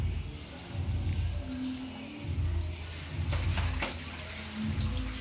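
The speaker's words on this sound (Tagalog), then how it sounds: "Una, kasi buksan natin yung tubig para may magana." Water runs steadily from an opened tap while an Azahi cooler fan is being cleaned: a continuous close splashing rush with a low hum underneath, holding even throughout.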